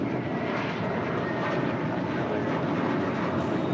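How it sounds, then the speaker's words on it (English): A Cayman Airways Boeing 737 MAX airliner rolls for a south-side departure at LAX, heard as a continuous, steady, broadband jet engine roar at a moderate distance. "Cayman Airways, the MAX, heading over here for a south side departure, heading to Georgetown"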